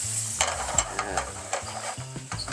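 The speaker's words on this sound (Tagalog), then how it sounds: "Let's put the garlic. Hinuli ko yung garlic kasi mabilis masunog ang garlic, guys. Toast muna natin siya." Garlic toasts in a hot pan for a chicken and shrimp jambalaya, a steady sizzle broken by quick scraping strokes of a spoon stirring it, close and alone with no talking.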